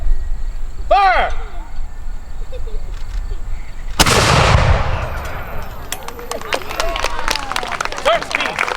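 A militia cannon fires one sharp, heavy blast at a demonstration outdoors. The report rings out and decays for several seconds into crackling echoes. A shout comes just before the shot.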